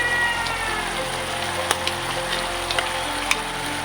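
Toasted coconut hitting spice paste frying in a pan for Acehnese stir-fried shrimp gives a steady, close sizzle with a few faint clicks and stirring scrapes throughout, no talking.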